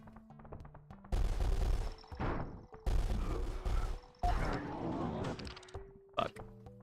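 Gunfire from the video game Cruelty Squad comes as several sharp, loud bursts, separated by quieter stretches of tonal game sounds and grunt-like noises.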